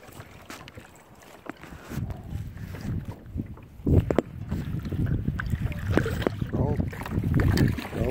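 Kayak paddling on Lake Pleasant, with irregular water splashes and sloshing against steady wind buffeting, growing busier and louder toward the end.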